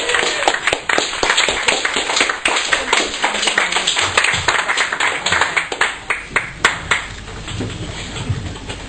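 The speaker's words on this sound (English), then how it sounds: "Ladies and gentlemen, one more round of applause please for Bill Jones." An audience claps for guest poet Bill Jones at a Sunday afternoon poetry event, a dense spread of individual hand claps close by and fairly loud, continuing steadily for several seconds before thinning out toward the end.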